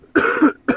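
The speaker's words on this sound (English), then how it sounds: "I still have my lingering cough" Two close coughs from a person with a lingering cough inside an old VW bus: a longer hacking cough followed by a short second one.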